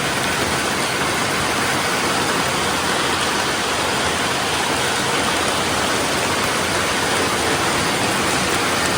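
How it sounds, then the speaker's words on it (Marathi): Steady, dense rain falls without a break, a loud continuous hiss of close downpour in the Konkan countryside, with no talking. "आता पाऊस आला"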